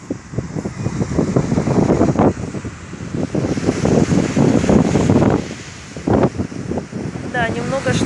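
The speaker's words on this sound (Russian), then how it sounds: "только ветрено" Wind gusting at an ocean beach, with steady rumbling buffeting on the microphone and surf-like noise throughout, and someone speaking over it near the end.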